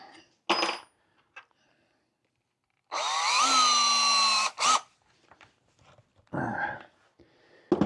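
A power drill with a 9/64 bit whirs for about a second and a half with a rising whine, framed by short clicks and knocks of handling nearby.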